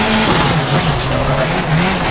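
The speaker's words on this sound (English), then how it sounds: "Hairpin right, handbrake." A rally car in WRC 4 swings through a hairpin at the Acropolis Rally with a handbrake turn, its engine droning loud and steady while tyres scrabble and skid throughout.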